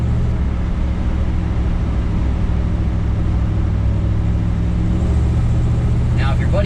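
A 1955 Chevy Cameo vintage pickup cruising, its steady low engine drone and road rumble running continuously, with faint chirping or whistling near the end.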